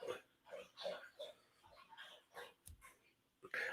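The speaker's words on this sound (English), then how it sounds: "My dog was thirsty, I guess." A dog whimpers and yips in short, soft bursts at close range, with a few thin high whines and small rustles between them.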